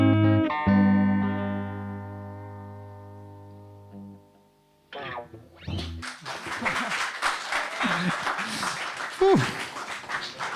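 A concert audience at a slam poetry show breaks into applause: dense clapping rises after a fading sustained electric guitar chord and a brief pause, and continues loud and close with some cheering.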